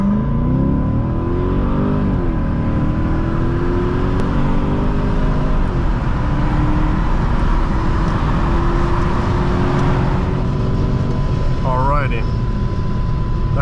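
A 2008 Infiniti M45 launches hard from 0 to 60 with heavy wheel spin, its loud, close engine note climbing steadily in pitch as it accelerates, with a voice heard over the roar.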